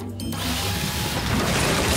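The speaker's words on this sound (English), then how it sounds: "we have this, the super sucky clue vacuum" A cartoon spy vacuum gadget, the super sucky clue vacuum, runs loudly and steadily as a dense mechanical whir with ratcheting, grinding texture, continuous throughout.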